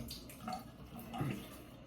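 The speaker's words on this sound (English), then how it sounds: "I'm gonna go ahead and get some warm water on my face here" Warm water runs and splashes quietly as it is scooped onto a face, with two soft bursts of splashing and no talk.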